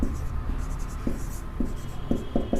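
Pen strokes writing out an equation for a linear equations lesson, a series of short scratchy taps and strokes at close range, clustered near the end, with no talking.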